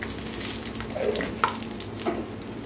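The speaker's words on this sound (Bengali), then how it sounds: "জিরাটা গরম তেলের মধ্যে দিয়ে দিয়েছি" Whole cumin seeds sizzle steadily in hot oil in a pan for a Bengali egg curry, with a few soft stirring clicks over the continuous frying hiss.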